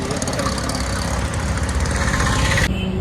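A Honda Activa scooter engine idles steadily with a low, even rumble, close by, continuous throughout with no talking.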